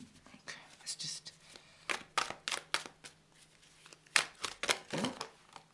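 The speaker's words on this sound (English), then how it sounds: "Come on, cards, let's give you a good shuffle." A deck of tarot cards is shuffled by hand close to the microphone, with quiet, irregular bursts of riffling and snapping card edges.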